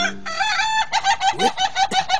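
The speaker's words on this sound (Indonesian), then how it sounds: "Inilah namanya ayam ketawa." A laughing chicken crows in a long, rapid cackling series of repeated bursts, like laughter, loud and close, with no one speaking.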